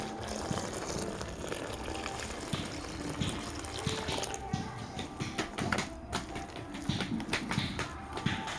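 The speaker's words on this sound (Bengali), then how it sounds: "দিয়ে দেবো উষ্ণ উষ্ণ গরম জল।" Warm water is poured into flour mixed with salt, a continuous rushing, trickling stream that runs throughout at moderate loudness with small splashy bursts toward the end.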